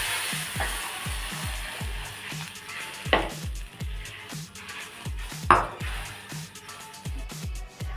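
A spoon scrapes and stirs a raw hasi gojju mixture in a pan with the stove off, giving a steady rhythm of soft knocks and scraping with a couple of louder clanks against the pan.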